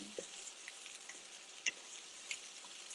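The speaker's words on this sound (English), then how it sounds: "I'm adding the cabbage now" Red cabbage stir-fried with mixed vegetables gives off a faint, steady sizzle, broken by a few small crackles and pops with no voices over it.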